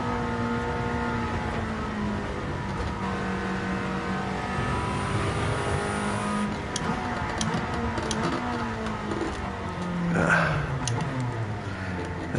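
An Audi R8 in the Gran Turismo 7 racing game, engine climbing and falling through the revs on track with shifting, sustained tones, loud and close with no talk.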